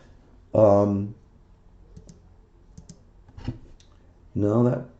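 A few soft computer mouse clicks, sparse and close, sit between two short bursts of talking.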